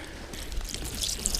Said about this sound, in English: I'm going to add some vanilla to this too, give it a little more flavor